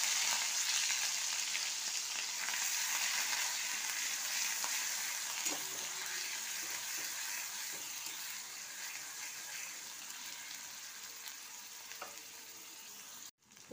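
Onion paste fries in oil with crushed cardamom, cinnamon and cloves for a fish curry, a dense, even hiss that gradually softens, with a few faint clinks and scrapes near the end.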